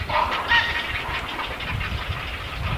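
Grey herons and egrets at a nesting colony behind a historic birthplace house in Cheonan give harsh overlapping calls, loudest in the first second, then fading to scattered chatter over a low background rumble.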